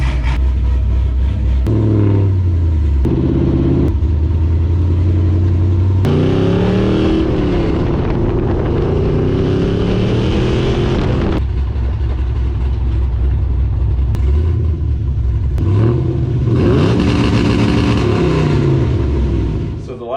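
A Pontiac GTO engine warms up and revs after rear suspension work, its loud exhaust note climbing and falling in repeated throttle blips over a steady idle, close by.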